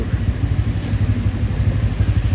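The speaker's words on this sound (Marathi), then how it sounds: "तुम्ही बघा आम्ही किती भिजलोय, किती पाऊस चालू आहे." Steady, dense heavy rainfall close by at Malshej Ghat, a continuous rushing hiss with low rumble and no pauses or voices.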